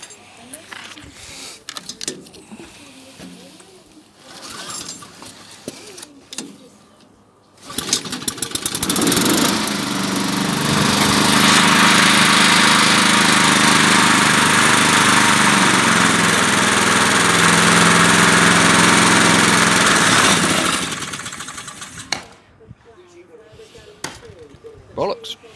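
Honda engine on a tow-behind topper sputters through a few starting attempts, then runs loud and steady for about thirteen seconds before cutting off, with some handling noises around it.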